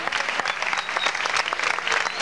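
Concert audience applause at a 1985 concert in Puerto Rico, a crowd clapping steadily with dense, rapid hand claps at moderate loudness.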